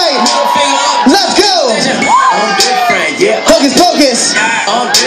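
A big crowd cheers, whoops and yells at a dance show, loud and continuous, with an amplified host voice booming over the roar.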